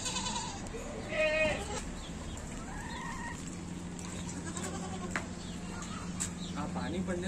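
Desi goats in Hyderabad, a mother and her male kid, bleat a few times, wavering calls close by over a low hum, while someone talks throughout.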